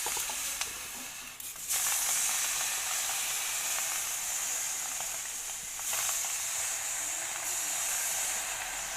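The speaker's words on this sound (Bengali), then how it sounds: "পাতাগুলো এবারে আমি কড়াইতে দিয়ে দেবো।" Giant taro (mankochu) leaves fry in a hot kadai with a loud, continuous sizzling hiss that surges briefly as more leaves hit the oil, close and without talk.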